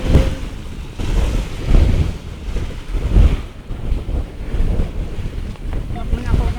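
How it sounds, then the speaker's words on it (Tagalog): Strong waves from floodwater in Estaca, Pangil surge and crash in rolling bursts under heavy wind buffeting the microphone, loud and close, with faint voices now and then. "ang lakas sa alon dito"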